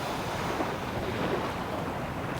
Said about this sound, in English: I'm hearing the sound of the crashing waves behind me.